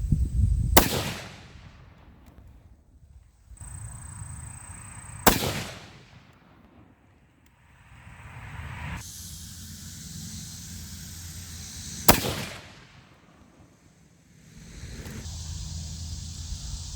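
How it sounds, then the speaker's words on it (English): Three sharp, loud .308 Winchester rifle shots firing Barnes 130 grain TTSX bullets ring out several seconds apart outdoors, each crack followed by a rolling echo that fades before the next. "So I'm gonna go ahead and adjust the scope over 3 inches and shoot 2 more groups."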